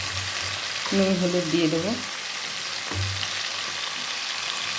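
Tomatoes fry in a pan for a tomato chutney, a steady close crackling sizzle with soft stirring, while someone speaks briefly over it.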